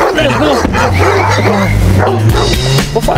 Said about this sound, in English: And that's my chihuahua, my friend!